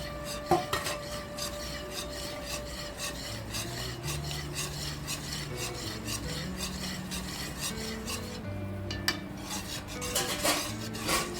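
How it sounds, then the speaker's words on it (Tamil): Thick palm jaggery halwa is scraped and stirred in a pan with a metal spoon, giving repeated rasping, rubbing strokes and occasional clinks against the metal, steady and close with no talking. "நல்லா கெட்டி பார்த்து வர வரைக்கும் கிளறிக்கலாம் சிம்மில் வச்சு கிளறிக்கலாம்"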